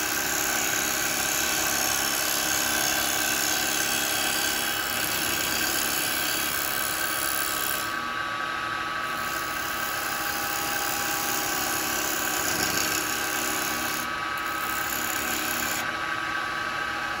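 A carbide chisel cuts a wooden bowl turning on a lathe, giving a constant loud motor whine with an even, scraping hiss that shifts slightly in texture as the tool moves, heard up close and without pause throughout.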